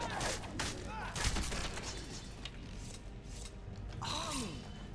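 Bow shots in Skyrim, loosed in quick succession amid dense game noise and music, with sharp impacts standing out over a busy, steady background.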